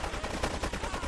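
AK-47 automatic fire in GTA 3 Definitive Edition on PS5, a fast steady stream of close, loud shots that fills the brief moment.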